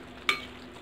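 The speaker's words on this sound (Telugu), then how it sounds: "కలిపేస్తున్నాను బాగా." A spoon scrapes once through cabbage egg curry in a pan, a short close scrape over a faint sizzle.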